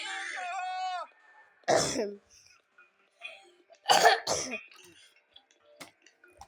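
A person in a stage play coughs in two harsh bursts, a single cough and then a rougher double cough, close by, after a brief line of talk and with faint stage noise between.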